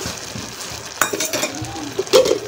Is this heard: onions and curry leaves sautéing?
yes